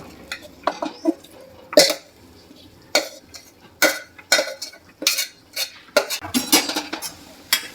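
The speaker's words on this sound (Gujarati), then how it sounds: "હવે આ લાપસી બધી આપણે હલાવી અને સરસ મિક્સ કરી દેવાની" A spoon scrapes and clinks against a pan as cracked wheat (lapsi) is stirred in hot ghee, with repeated short, fairly loud strokes in an irregular rhythm. No one talks.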